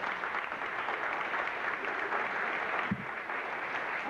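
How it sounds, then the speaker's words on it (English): Applause for the players at a 1994 basketball awards banquet, a steady even clatter of clapping from a seated crowd filling the room, moderately loud, with no voices over it. "we'll have all the players stand up for one round of applause"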